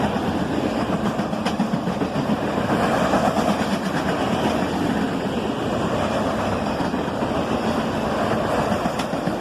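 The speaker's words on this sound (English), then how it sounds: "as the train passes, you can hear a Norfolk Southern horn honking in the distance" A nightly northbound freight train of auto racks rolls past close by, a continuous rumbling clatter of wheels and cars with engine drone; any Norfolk Southern horn sounding in the distance is not clearly picked out above the train noise.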